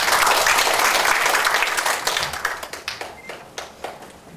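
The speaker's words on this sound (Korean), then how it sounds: "뜨거운 박수 부탁드립니다" An audience at a social welfare forum claps in a dense burst that thins over the last two seconds into scattered individual claps.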